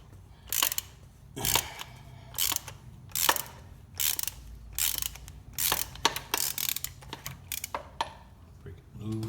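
A hand ratchet clicks in repeated bursts while breaking loose a part during an oil change on a Polaris Slingshot, close and crisp with short pauses between strokes.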